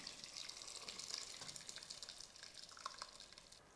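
Cooked lentil water pours and trickles through a sieve into a large vessel, a faint, continuous splashing stream with small drips, with no voices.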